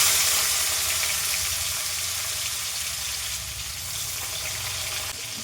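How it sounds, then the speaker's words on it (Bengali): Chopped onions hiss and crackle in hot oil with dried red chillies and nigella seeds, the start of a shol fish kalia; a continuous, close, dense sizzle runs throughout. "পেঁয়াজটাকে আমি একটু লালচে করে ভেজে নেবো"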